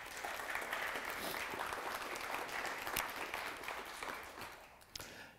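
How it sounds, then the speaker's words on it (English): An indoor audience at a photography workshop claps in sustained applause for several seconds, dense and fairly loud, tapering off at the end. "can you give her a round of applause,"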